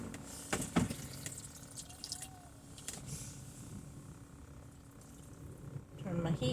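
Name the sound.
running water from tap in van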